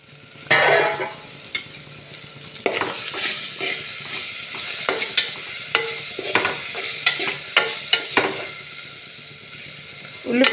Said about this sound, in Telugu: ఇప్పుడు మూత పెట్టి ఉల్లిపాయ పచ్చిమిర్చిని మగ్గిస్తాను.